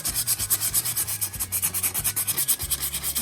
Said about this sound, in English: Need to get some more sandpaper.